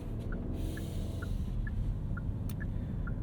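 A 2023 Genesis GV80 cruising gently in eco mode, with a steady low road and engine rumble from inside the cabin and faint regular ticking, like an indicator, above it.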